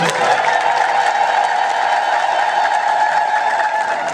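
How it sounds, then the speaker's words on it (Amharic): An audience at a church gathering applauds steadily, a dense, even wash of clapping from many hands that holds at full volume from start to finish. "ተነስተው አጨብጭቡላቸው እስቲ።"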